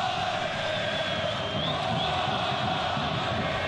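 A Brazilian football stadium crowd at a Ponte Preta versus Corinthians league match roars in a dense, sustained wash of cheering and chanting, loud and continuous.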